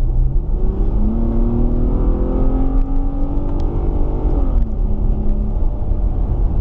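Cabin engine noise of a Range Rover or Infiniti accelerating from 40 mph, a steady rumble with a whining tone climbing in pitch through a gear change, heard from inside over constant road roar.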